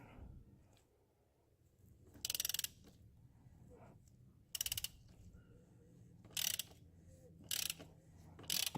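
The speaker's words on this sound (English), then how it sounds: "You just want to put your socket on there, just like that. Give it a good turn." A socket wrench ratchets in five short, sharp clicking bursts while loosening the oil filter on a Mercedes CLA during an oil change, with quiet handling noise in the gaps between turns.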